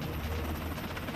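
Rescue helicopter during a survivor hoist operation, a steady close rotor thrum and engine roar filling the brief moment without a break.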